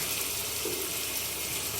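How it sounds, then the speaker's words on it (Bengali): Ginger water is poured into a chicken biryani marinade of spices and turmeric, giving a short, steady liquid splash close up with no talk. "আর দেবো আদার জল"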